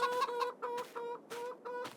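Chickens in a Farming Simulator 22 coop, clucking in short repeated bursts, close and clear with no talk.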